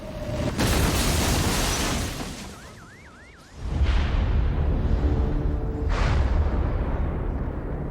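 Heavy booming film explosion effects from Independence Day (1996) with a deep rumbling roar, a brief lull, then another loud blast that rolls on with crackling debris.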